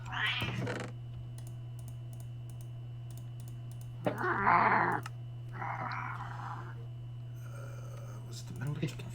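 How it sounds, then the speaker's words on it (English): A house cat meows while attacking a door indoors, its cries coming in short bursts over a steady hum, with faint clicking and a person's voice nearby. "I have a cat attacking my door."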